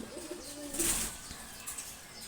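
Male pigeons give a low, soft coo near at hand, with one louder swell in the middle and faint murmuring around it, and no talking.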